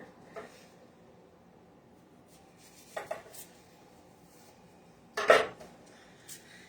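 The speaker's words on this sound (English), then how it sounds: "we're gonna cut off that little sprout part" Knife cutting the sprout end off an onion on a board, a few sparse, distinct clicks and taps against quiet background, with the sharpest cut near the end.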